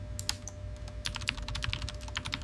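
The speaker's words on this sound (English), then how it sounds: "The operator typed the kill command and broadcast." Rapid clicking of keys on a computer keyboard, an irregular burst of typing over a low steady hum.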